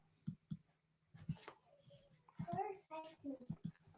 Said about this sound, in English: He in the room barking and he won't shut up.